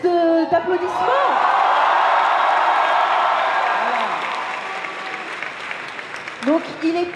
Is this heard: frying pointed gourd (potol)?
no